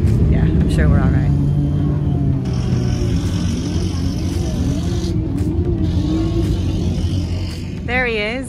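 Autograss race cars roaring around a grass circuit in a junior challenge race, a loud engine drone with revs rising and falling, while people talk over it nearby.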